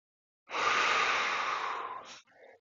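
A single long, deep breath taken during a lower-body stretch in a senior golf flexibility routine, a steady airy exhale lasting about two seconds, followed by a short softer breath, close and clear with no talking.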